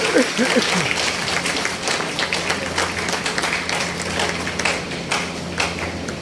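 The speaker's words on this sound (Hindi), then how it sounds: "सो बहुत जोरदार तालियों के बीच असलम खान जी को माइक दे रहे हैं।" An indoor crowd at a business event in Siwan, Bihar applauds loudly, a dense sustained wash of clapping that carries on for several seconds, with a voice briefly heard near the start.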